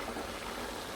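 Red cabbage simmers in a saucepan with plenty of juice, giving a steady, soft bubbling and hissing that is close and continuous with no talk over it.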